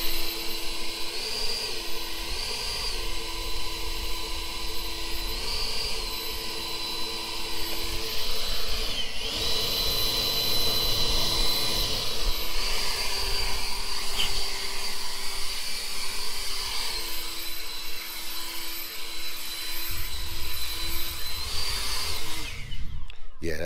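An Ego 650 CFM battery leaf blower running on turbo, a loud, steady whirring roar held close and alone with a faint pulsing tone, cutting off abruptly at the end.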